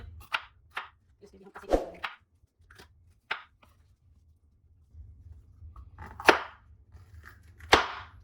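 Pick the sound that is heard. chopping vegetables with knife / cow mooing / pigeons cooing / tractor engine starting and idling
chopping vegetables with knife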